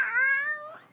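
A person imitates a cat's meow, a single drawn-out, close and fairly loud mew with a falling tone.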